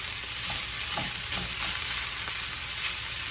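Onions, rice and seasoning sizzle steadily in a skillet for an okra, tomato and rice dish, a dense close frying hiss with a few soft scrapes of stirring and no talking.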